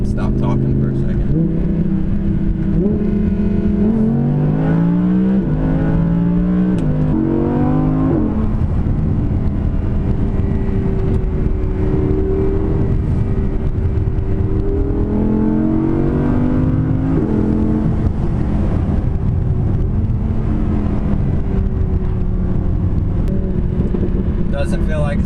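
An Audi R8 V10 Plus engine pulls hard while driving, its loud drone rising in pitch through several gears with shifts between, heard from inside the car with a voice occasionally over it.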